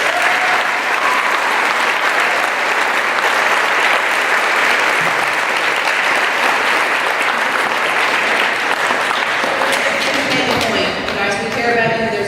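A school assembly audience of students gives a long, loud round of applause, a dense, steady roar of many hands clapping together that holds evenly throughout, with scattered voices near the end.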